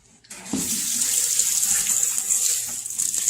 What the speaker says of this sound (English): We're going to rinse.